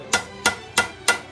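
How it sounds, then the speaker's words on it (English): Four sharp, evenly spaced hammer blows ring out on a brass horn bell, a hard spot being hammered down, each strike close, loud and bright with a short metallic ring. "Got something here I gotta hammer down. Sometimes the brass just gets hard in one spot"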